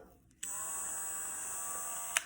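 A Dremel rotary tool with a small 1.5 inch cutting wheel, used on a split wooden steering wheel from a 1968 Pontiac GTO, starts abruptly and holds a high, steady whine close up before a brief clatter near the end.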